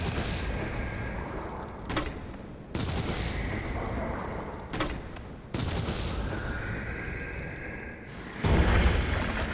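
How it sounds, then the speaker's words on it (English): Mine rounds fired at a Hunter Gamma in Resident Evil 3 Remake: three loud, sharp blasts about three seconds apart, each with a brief crack and a ringing tail, over a steady droning game ambience with a heavier rumble near the end. "let's see if mine rounds do anything to him"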